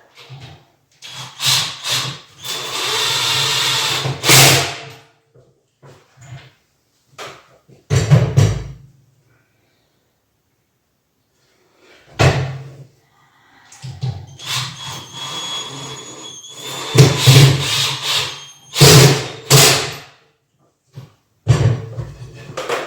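Screws being driven into wooden model railway baseboards with a power driver, coming in several bursts of whirring and grinding separated by pauses, fairly loud and close.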